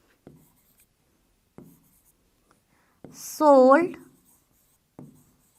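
Marker or chalk strokes on a board during a maths class: a few short, sparse taps and scratches at steady intervals, with one brief spoken word in the middle.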